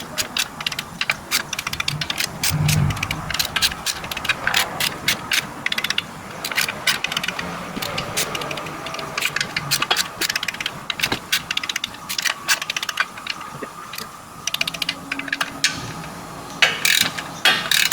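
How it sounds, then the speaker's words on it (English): A torque wrench ratchets while tightening transmission oil pan bolts on a Mazda 3, a close, rapid clicking that runs in repeated bursts with brief pauses between bolts. "now I'm just going to go ahead and torque them all down in that order that I showed you guys before"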